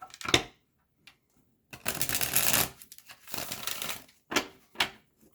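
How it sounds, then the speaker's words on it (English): Tarot cards shuffled by hand in quick riffled bursts, each a few seconds of dense papery flutter separated by short pauses, close and clear with no talking. "All right, one more shuffle."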